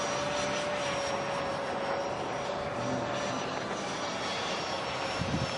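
A Bat Wing RC jet flies past with a continuous, steady turbine roar and a high whine running throughout, moderately loud with no talking.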